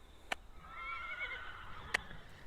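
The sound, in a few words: horse galloping around a paddock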